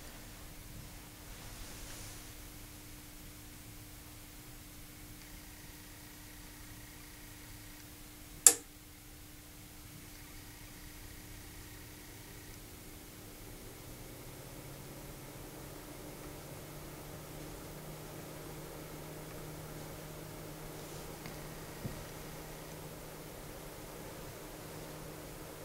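A Noctua NF-P12 120mm computer fan running through its low noise adapter gives off a faint, steady airy hiss, recorded close up, with one sharp click partway through and no voices.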